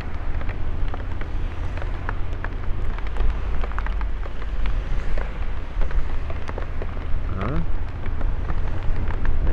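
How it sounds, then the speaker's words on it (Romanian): Rain patters steadily during a motorcycle ride near Cluj in Romania, with scattered drop hits over a constant low rumble of wind and motion. "Aici plouă, serios."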